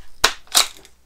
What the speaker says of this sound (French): On va mettre un petit chargeur vide.